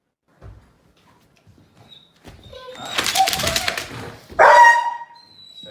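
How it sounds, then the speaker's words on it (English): A distressed dog barks and yelps in a few loud bursts, with a sharp harmonic cry near the end, mixed with faint shuffling and a brief human voice. "Dog's freaking out."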